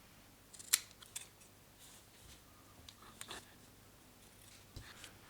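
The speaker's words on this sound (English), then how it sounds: "I'm gonna just cut a few double-sided adhesive tape in order for me to have the battery glued in place" Scissors snip through double-sided adhesive tape during a Samsung Galaxy A70 phone repair, a few quiet, sharp cuts spaced out over a faint background, with no talking.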